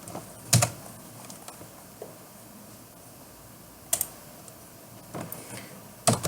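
Someone types an IP address on a computer keyboard, sparse clusters of quiet keystrokes separated by pauses, recorded close in a quiet room.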